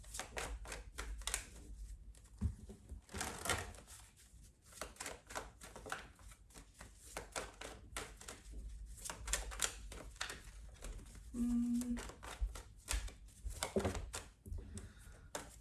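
Soft, rapid riffling and tapping of tarot cards being shuffled, close and quiet, in irregular bursts with short pauses.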